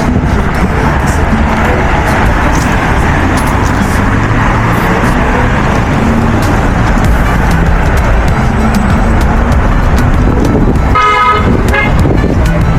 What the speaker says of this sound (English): You can see this steady movement of traffic